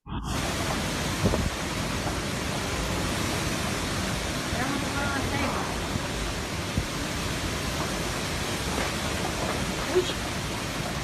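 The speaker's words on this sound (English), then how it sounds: "That's some pretty intense wind for a Cat 1." Intense wind and heavy rain of a category 1 hurricane roar steadily for the whole stretch, a dense unbroken hiss and rumble with no pauses, loud and close.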